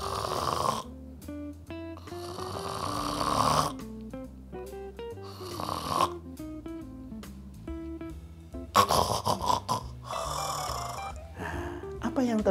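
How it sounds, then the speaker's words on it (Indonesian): Heavy snoring from a sleeper with sleep apnea and a narrowed airway comes in loud, rasping bursts at irregular intervals, set against background music. "Ini yang menyebabkan suara ngorok"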